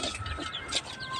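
Chickens clucking and calling over a steady outdoor backyard background, with short overlapping bursts of fowl sounds spread through the moment.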